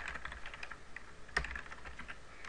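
Quiet, rapid clicking of keys on a computer keyboard, with one sharper keystroke near the middle and no talking.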